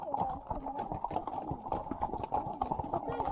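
A horse's hooves clop in a quick uneven rhythm on a trail ride in Costa Rica, fairly close, with people talking over the steps.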